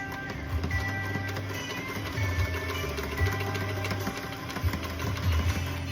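Sewing machine running steadily, back stitching over fabric in several bursts of rapid mechanical whirring with short pauses between runs, close and fairly loud, with no talking.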